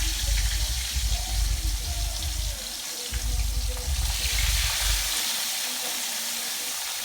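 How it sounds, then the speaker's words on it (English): Fish frying in hot oil for Jamaican escovitch fish, a steady broadband hiss and crackle of bubbling oil, fairly loud and close, continuous throughout with no one talking. "now I'm gonna put my fish into the oil"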